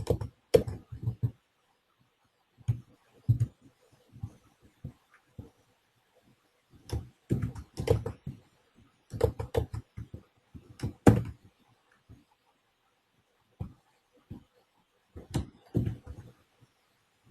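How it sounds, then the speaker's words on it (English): Code typed on a computer keyboard during a Base SAS programming lesson, scattered bursts of close key clicks separated by quiet pauses, with no talking. "So let me just type in the code for you."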